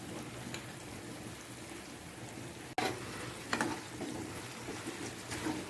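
Chicken pieces fried and stirred with chili powder and garam masala for biryani make a quiet, continuous sizzle, with a sharp clank of the spoon near the middle and a few scraping stirs after it.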